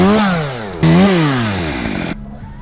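A chainsaw running during windy tree pruning and dismantling, loud and close, with rising and falling revs that dip sharply and surge again before cutting back to a quieter idle.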